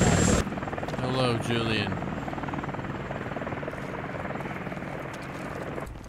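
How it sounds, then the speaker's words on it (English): A helicopter flies in a video game, its rotor chopping in a steady, loud, rapid pulse throughout, with a brief spoken greeting over it near the start. "They kicked me out of that helicopter up there."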